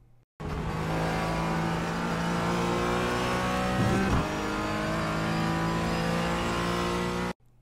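Race car engine of a GT4 car in the iRacing sim at Lime Rock, held at steady high revs with a continuous harmonic whine, a brief dip and rise mid-way as the driver eases off and back onto the throttle.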